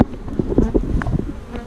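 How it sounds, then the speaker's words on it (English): Honeybees at a hive buzz loudly and close, a testy, agitated colony giving a dense continuous drone with individual bees zipping past. "these bees are a tad on the testy side"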